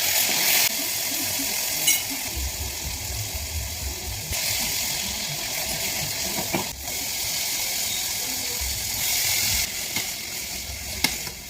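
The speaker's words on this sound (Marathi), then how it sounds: "चला तर आता कोबीची भाजी कणी पटापटा फोडणीला देऊया" Cabbage sabzi sizzling in a pan after being tempered, a dense continuous hiss and crackle heard up close, steady throughout with no voices.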